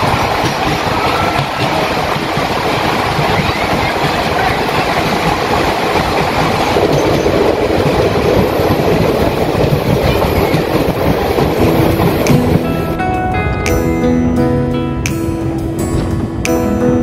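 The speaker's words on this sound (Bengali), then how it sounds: "আর মাঝে মাঝে ট্রেন এই ছোট ছোট টানেলগুলিকে পার করবে।" A train runs through a series of small tunnels, giving a loud, continuous rumble and clickety-clack of wheels. Sharp, tonal squeals or chimes break in toward the end.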